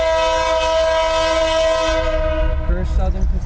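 A Union Pacific coal train led by an AC4400CW locomotive sounds a loud, sustained multi-tone horn nearby, which cuts off partway through as rumbling wheels and rail noise continue.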